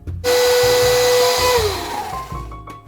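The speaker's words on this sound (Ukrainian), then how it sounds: "Змішуємо часник, петрушку та оливкову олію і взбиваємо в блендері до однорідної маси" A blender whirs steadily as it purées garlic, parsley and olive oil into a sauce for toast, the motor pitch sagging as the load changes before it winds down near the end.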